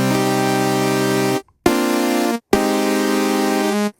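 Init preset of the UVI HX-ODDY vintage software synthesizer: three sustained, buzzy tones, each held alone and separated by short gaps, with a bright, harmonically rich timbre.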